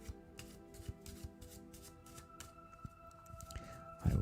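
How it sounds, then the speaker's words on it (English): Soft riffling and flapping of playing cards being shuffled, quiet and close, ending in a louder thump. "I will shuffle up my deck of cards."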